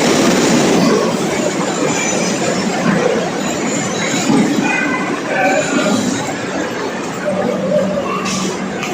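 A suburban train pulling into Andheri station in Mumbai rumbles and clatters loudly and continuously, with squealing wheels and faint crowd noise underneath.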